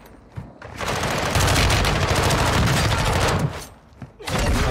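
Sustained automatic gunfire in a Call of Duty Warzone match, loud and close, firing in long rapid bursts for most of the few seconds with a short gap near the end.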